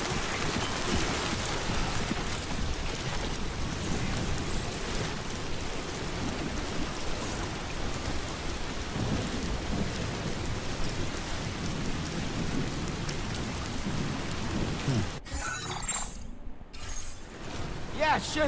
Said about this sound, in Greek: Και πρέπει τώρα να με βαράει η βροχή στον κόλο.